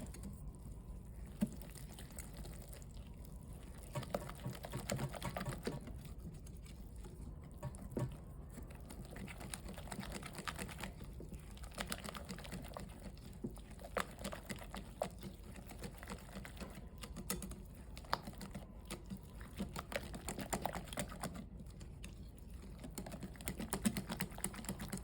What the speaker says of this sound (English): Now mix this together until nice and smooth.